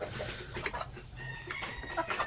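Basilan native chickens cluck and chatter continuously at close range, with a faint crow mixed into the busy background.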